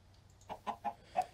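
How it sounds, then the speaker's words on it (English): Chickens in Minecraft Sky Factory 3 cluck in a short run of four quick, clear clucks over a low steady hum, with no talking. "That's an emerald chicken and a cactus green chicken."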